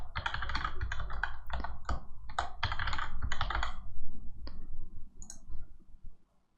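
Rapid, uneven keystrokes on a computer keyboard while a root password is entered during a CentOS 7 installation, close and fairly loud, with a few final taps and then silence.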